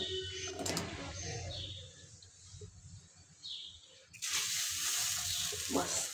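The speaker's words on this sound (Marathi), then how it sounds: "तर पेसराट्टू घालून घेऊया." Pesarattu batter meets a hot tawa and bursts into a loud, bright sizzle partway through, after quieter kitchen clatter and faint background sounds.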